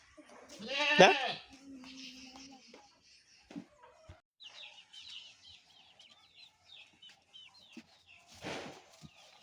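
A ram goat bleats loudly once near the start and again near the end, with quieter animal calls and voices scattered between at a village homestead.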